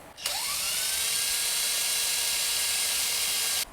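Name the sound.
drilling locator pin holes through guitar fretboard and neck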